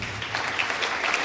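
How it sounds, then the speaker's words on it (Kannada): Loud, close audience applause after a college stage play, a dense unbroken clatter of many hands lasting the whole moment. "ನಿಮ್ಮೆಲ್ಲರ ಜೋರಾದ ಚಪ್ಪಾಳೆ ಬರಲಿ"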